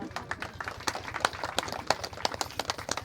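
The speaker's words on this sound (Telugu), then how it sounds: "అందరూ చప్పట్లు పెట్టాలి" A village audience claps at a sarpanch and ward members' oath ceremony in Pusugudem, producing steady, fairly close applause with dense overlapping claps over a faint background murmur.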